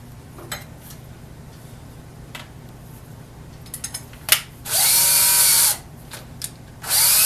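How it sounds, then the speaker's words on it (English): A power drill fitted with a long drill bit whirs in two loud, sustained bursts of about a second each, with faint clicks and handling knocks in between and no talk. "when I use this drill and drill through a wall"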